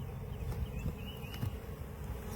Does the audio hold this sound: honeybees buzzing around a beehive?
yes